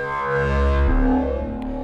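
A Vhikk X oscillator synth runs through its built-in Field filter, giving a dense, buzzy sustained drone whose tone shifts and darkens partway through, loud and close with no voices.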